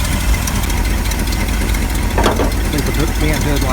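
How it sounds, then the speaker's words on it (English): A Ford F-350 pickup engine with an exhaust leak runs at a steady, loud idle, giving a rough knocking rumble. A brief clatter sounds midway. "Now, you will hear an exhaust leak."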